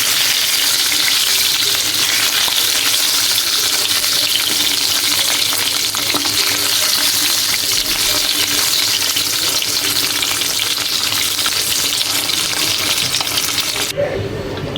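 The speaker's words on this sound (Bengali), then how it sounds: "দেখো ডিমগুলো এইভাবে ভাজা প্রায় হয়ে আসছে" Eggs frying in hot oil in a home kitchen, a loud continuous sizzle that holds steady throughout with faint stirring underneath, cutting off abruptly near the end, with no talk over it.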